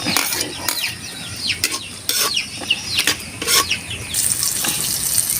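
Garlic sizzles in melted butter in a pan, a crackling fry punctuated by uneven scraping and clattering stirs, close and moderately loud with no speech.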